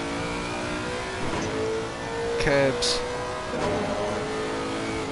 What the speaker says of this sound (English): Just hear the suspension lift there, and the revs rise